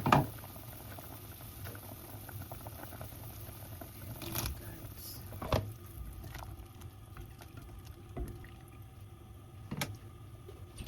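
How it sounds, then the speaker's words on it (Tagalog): Chicken soup with carrots simmering in a pot, a soft steady bubbling with occasional louder pops and gurgles, close and alone without talk. "I-simmer muna natin yung maluto yung chicken"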